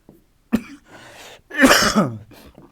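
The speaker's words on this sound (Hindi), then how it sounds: "खांसी हो रखी है।" A person with a heavy cough lets out a short cough and then a harsher, louder throat-rasping cough a moment later, both close and dry, with near silence around them.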